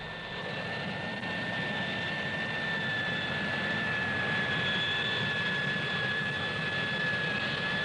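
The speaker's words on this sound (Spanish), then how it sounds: "El Hawker P-1127, un reactor de un solo motor, fue el primer VTOL maniobrable." A Hawker P.1127 single-engine VTOL jet roars steadily and loudly, its broad engine rumble topped by a sustained high whine that holds without a break and with no voices present.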